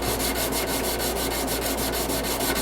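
Belt grinder sanding a knife bolster, a steady continuous abrasive rush with a rhythmic pulsing from the belt, loud and close with no talking.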